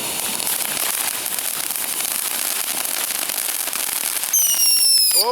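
Fireworks going off at a house: a dense, continuous crackle of firecrackers rolls on for seconds, then whistling rockets shriek upward near the end, loud and close.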